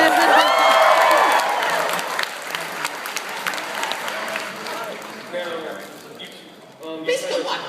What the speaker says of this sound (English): let's give a round of applause for Fudge Guy